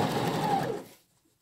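A sewing machine backstitches a welt pocket in one short, close burst of whirring that lasts under a second and then cuts off into silence.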